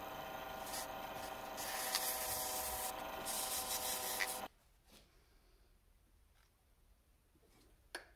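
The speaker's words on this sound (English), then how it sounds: "it can get all gummed up in your sandpaper. But this is the 400 grit" Sandpaper rubbing a lathe-turned wooden pen blank at 400 grit, a steady hissing scrape for about four seconds that cuts off abruptly, followed by quiet room tone with a few faint clicks.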